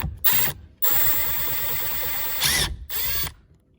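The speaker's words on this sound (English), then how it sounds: "I have removed this T20 with the Milwaukee impact here. I will use it to remove this other T20." Close, loud whirring bursts from a Milwaukee impact driver backing a T20 screw out of a Chevy Cruze door, with one long run and several short spurts separated by brief gaps.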